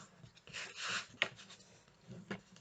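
Paper for a floral album is creased fold by fold, giving close, faint scraping and rubbing strokes with one sharp crisp press partway through, and no voice.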